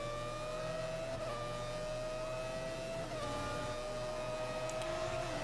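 Racing cars in F1 2014, 1999 season, droning past with steady high-pitched engine whine and gear-shift pitch drops, one car's tone sliding as it passes, fairly quiet and continuous, with no voices.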